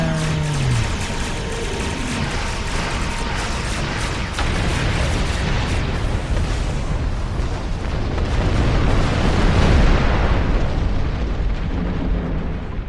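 An explosion in Star Trek Online, a loud sustained roaring rumble with debris-like crackle that swells and lingers for several seconds, dense and continuous with no voices.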